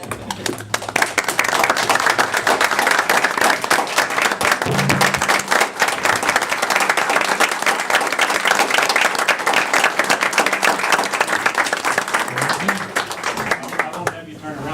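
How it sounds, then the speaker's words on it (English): Audience at a city council meeting breaks into sustained, loud clapping that fills the whole stretch, dense and even, with a few voices mixed in beneath the applause. "they're all clapping"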